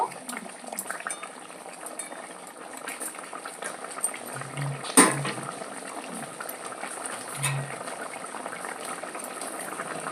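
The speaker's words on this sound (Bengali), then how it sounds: "ভালো করে ফুটিয়ে নেব" Bhola fish curry with potatoes bubbling at a steady boil in a pot, a continuous close simmering hiss with a few utensil clinks and knocks against the pot.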